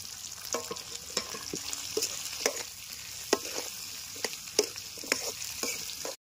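Capsicum and onion cubes fry in a pan under a steady sizzle, with regular scraping and clacking strokes of a spatula stirring the vegetables, close and clear, before the sound cuts off abruptly.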